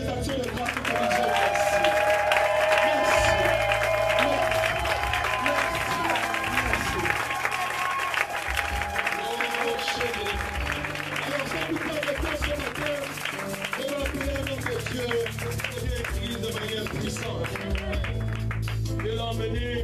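A church congregation in Gabon applauds and cheers during a worship service, a sustained crowd roar of clapping and voices that continues under a preacher speaking and music.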